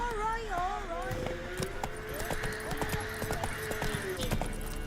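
Geralt's horse Roach from The Witcher 3 video game clip-clops along in a steady trot under game music, tonal voices and other game sounds, with a voice speaking over it.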